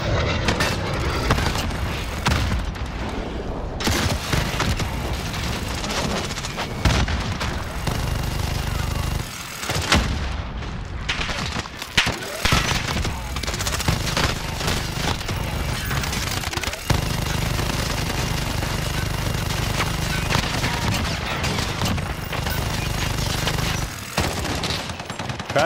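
Dense, loud bursts of automatic gunfire in a shooter video game, rapid rattling volleys almost without pause and a few short breaks, under a faint voice.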